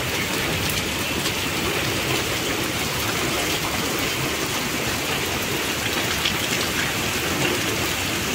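Steady heavy rain pours down continuously, a dense, loud hiss of drops striking surfaces nearby, unbroken for the whole stretch with no talking.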